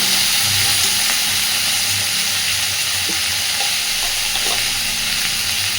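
Cauliflower florets fry in a pan for a Bengali fish curry, giving a steady close sizzle with faint stirring scrapes of a spatula throughout.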